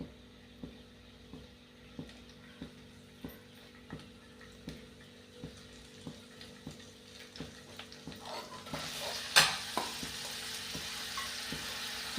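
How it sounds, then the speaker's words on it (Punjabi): Garlic fries and is stirred in hot oil for a coriander and spinach bhurji, giving a soft steady sizzle with regular ticking taps of a spoon against the pan, growing louder and brighter near the end. "ਤੇਲ ਆਪਾਂ ਪਹਿਲਾਂ ਜੀ ਕਰ ਲਿਆ ਸੀ ਗਰਮ ਪਹਿਲਾਂ ਐਡ ਕਰ ਲਿਆ ਜੀ ਲਸਣ"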